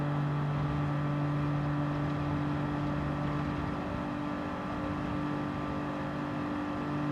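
A Renault Kangoo screams at high speed in Gran Turismo 7, a steady sustained engine drone with a constant pitch and no letup, heard alone with no talking.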